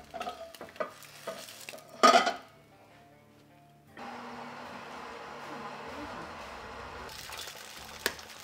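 An egg fries in oil in a titanium pan, with clattering scrapes and a sharp utensil knock early on, then a soft steady sizzle that swells louder partway through.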